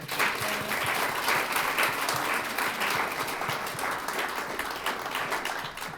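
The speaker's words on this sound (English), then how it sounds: "get another round of applause for Taylor real quick." Audience clapping after a keynote speech at the opening of a Utopia art exhibit, dense and steady applause from a roomful of people that holds level for several seconds before easing slightly.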